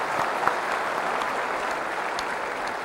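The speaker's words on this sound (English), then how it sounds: "Let's give a big round of applause to our graduates." Sustained, dense applause from a large convocation audience honouring university graduates, steady and fairly loud throughout with no pauses.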